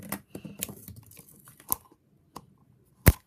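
A Disney emoji Mash'ems plastic package is cut open with sharp, sparse crinkles and snips, including a louder crackle near the end, all close and with no talking.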